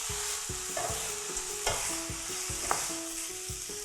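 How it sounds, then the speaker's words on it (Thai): Crispy fluffy fried catfish is tossed in red curry paste in a wok, with a steady sizzle under brisk, regular scraping strokes of a spatula and a couple of sharper metallic clinks. "ตามด้วยปลาดุกฟูที่เราทอดไว้ค่ะใส่ลงไปคลุกเลยค่ะให้ตัวพริกแกงนะคะเคลือบให้"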